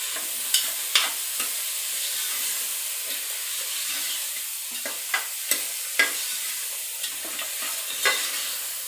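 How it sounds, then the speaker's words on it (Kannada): A spoon stirs pulao in a pan after jaggery is added, giving a steady close sizzle of frying with scattered light scrapes and clinks against the pan. "ಕಲಗಿಸೋಣ."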